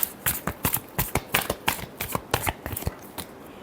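Tarot cards being shuffled by hand, a quick run of crisp riffling flicks and slaps in an uneven rhythm, close and fairly loud with no talking.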